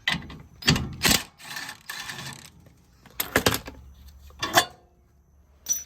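A ratchet works on a 17 mm lower control arm bolt on a Honda Civic Type R, in several short bursts of clicking and metallic rattling separated by pauses, close and loud.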